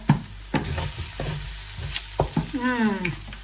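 Okra stir-fries in a pan, a soft sizzle under repeated scraping strokes of a spoon and a brief squeaky sliding scrape near the end.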